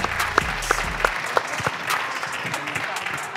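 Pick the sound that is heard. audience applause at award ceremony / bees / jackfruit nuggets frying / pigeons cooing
audience applause at award ceremony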